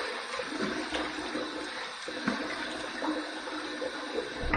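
Water runs and splashes steadily at a sink while a face is wetted before shaving, a continuous moderate rush with small splashy variations and no speech.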